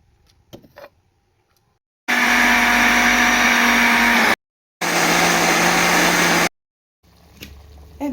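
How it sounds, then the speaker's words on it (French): A kitchen blender purees cooked vegetables with akpi powder for a smoked chicken sauce, running loudly in two sustained bursts separated by a brief pause, with quieter handling noises before and after. "je vais les retirer pour les passer au mixeur"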